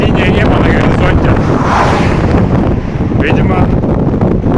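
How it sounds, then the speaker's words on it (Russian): Strong gusting wind on a coastal mountain road near Yalta before a downpour, buffeting the microphone in a loud, continuous roar with no break, with faint voice traces buried in the rush. "потому что ветер усилился, потемнело"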